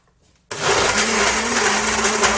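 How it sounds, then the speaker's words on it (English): A blender starts abruptly and runs at a loud, steady whir while blending frozen berries for a chocolate protein shake. "Stick it in our blender."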